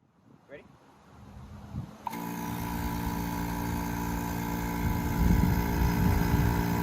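An AC vacuum pump kicks on after a quiet stretch with faint talk, then runs as a steady, loud motor drone with a constant hum, a car-AC servicing job.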